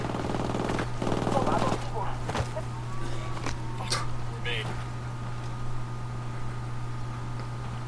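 Gunfire in the tactical shooter Ghost Recon Wildlands: a rapid automatic burst early on, then scattered single shots spread across the clip over a steady hum, with people talking at times.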